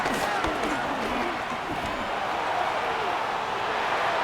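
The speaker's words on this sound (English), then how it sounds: "This crowd turning up the decibel level" Stadium crowd roar from a Madden NFL 26 football game, a steady loud wash of cheering that swells slightly, with scattered thumps and shouts in the din.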